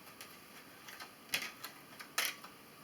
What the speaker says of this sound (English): So let's go ahead and cut this deck.